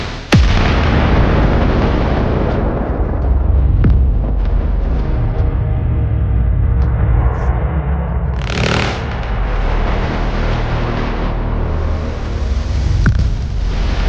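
Heavy booming cannon fire from a fleet of anime warships, repeated blasts rolling over a dense, rumbling battle din with sharp bursts, loud and close throughout.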